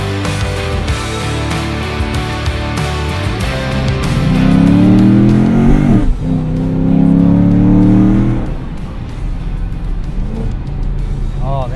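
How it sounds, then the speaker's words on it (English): A manual Chevy SS with long-tube headers and an X-pipe revs up and downshifts, the pitch climbing and falling in loud sweeps, with some talking mixed underneath. "Downshift sounds good."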